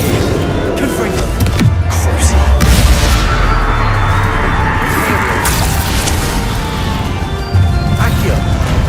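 Confringo fire spell blasts in Hogwarts Legacy on PS5, loud crashing booms and smashing impacts that follow one another amid dense game noise, with a voice calling out over the action.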